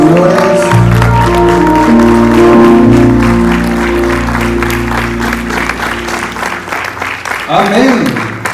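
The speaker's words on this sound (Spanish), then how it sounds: "denle un fuerte aplauso al Rey de Reyes y Señor de Señores." A church congregation at a Spanish-language Sunday service claps loudly, the busy applause blending into sustained, loud worship music that fills the room, with a short melodic flourish near the end.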